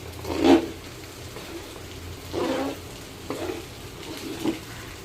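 Pav bhaji bhaji simmering in oil in a pan, giving soft intermittent sizzles and bubbling bursts with quiet gaps between, close and moderately loud.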